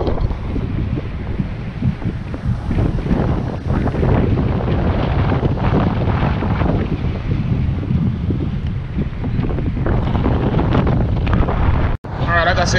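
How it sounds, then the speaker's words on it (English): Strong wind buffets the microphone on the rocks of a fishing jetty at a park, a constant roaring rumble with gusty surges throughout and a sharp knock near the end. "It's very windy."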